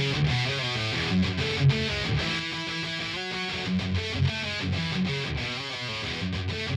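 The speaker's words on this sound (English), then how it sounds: "hopefully you can hear the distortion characteristics changing with all this stuff" A distorted electric guitar chugs through a crunchy, driven riff of chords and short stabs, close and fairly loud.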